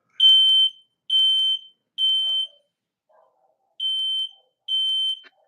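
A smoke alarm sounds five loud shrill beeps that are close and evenly spaced, with a short pause after the third beep and no talk over it.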